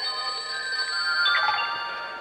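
A telephone rings in a home, a steady electronic ringtone with sustained tones running alone for the full stretch, fairly close and clear, with no talk over it.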